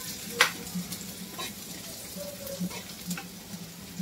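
Chopped onion sizzles softly in a pan while being stirred for chilli paneer, a quiet steady frying hiss with occasional utensil clinks and scraping.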